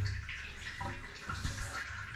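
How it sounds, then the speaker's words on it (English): Water gushing and trickling as a newly installed toilet in a secondary bathroom flushes and refills, a moderate rushing swirl with a few splashy surges, fairly close. "So first flush, successful."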